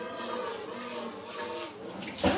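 Running water swishes steadily over nuts being rinsed in a bowl during home cooking, a continuous close wash that swells briefly near the end.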